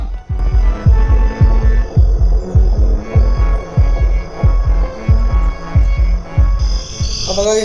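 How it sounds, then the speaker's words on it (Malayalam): Heartbeat effect in a horror video game, a steady run of deep double-thump throbs repeating about every half second, loud and close with no talk over it. "ഒരു ഹാർട്ട് ബീറ്റ് കേൾക്കുന്നുണ്ട്."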